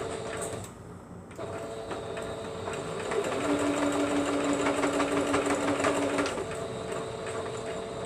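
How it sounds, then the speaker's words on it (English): Sewing machine stitching a few stitches back and then forward, a steady close mechanical whir with fast rhythmic needle clatter that starts, pauses briefly, and runs on at a louder, higher-pitched hum. "Now I only want to sew this."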